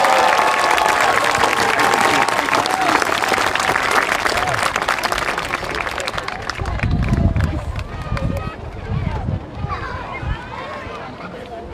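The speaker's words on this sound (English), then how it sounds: "please give him a massive round of applause." Strong outdoor applause and cheering from a park crowd for a volunteer at a Roman gladiator demonstration, loud for the first half then thinning into scattered claps under chatter and voices.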